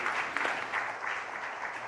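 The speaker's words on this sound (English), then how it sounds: "Let's welcome him with a rousing applause." Applause from a leadership conclave audience welcoming a minister, a steady soft wash of many hands clapping, somewhat distant and even throughout.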